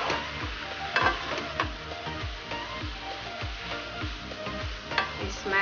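Meat fries in a pan for Indonesian nasi goreng, with a steady close sizzle broken by repeated scraping stirs and light taps of a utensil against the pan, no voices.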